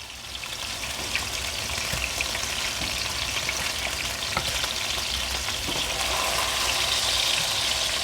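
Smash burgers fry on a flat-top griddle or pan, a steady broadband sizzle and crackle with scattered pops running continuously at close range, no talking.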